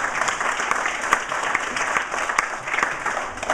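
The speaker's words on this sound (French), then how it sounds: "on l'applaudit très fort" A theatre audience at a corporate theatre performance applauds steadily, with dense clapping that stays loud throughout.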